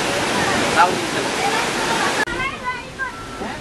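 The Telun Berasap waterfall in Kerinci roars as a loud, steady rush of falling water, filling the whole short stretch with dense noise while a voice talks faintly over it.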